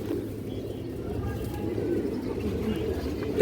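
A pair of domestic pigeons coo softly and continuously nearby while someone talks over them.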